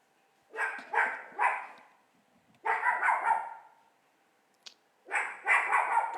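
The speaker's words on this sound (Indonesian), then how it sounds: "Siapa yang bilang boleh gonggong?" A dog barks in loud, close bursts, giving three quick barks, then a run of several more, then another cluster after a brief pause.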